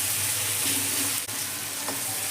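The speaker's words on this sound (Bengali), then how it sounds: "রসুন বাটা দিয়ে আমি পেঁয়াজের সঙ্গে ভেজে নেব" Garlic paste and onions frying in a pan over a lowered gas flame, a steady close hiss and sizzle that holds throughout with no talk.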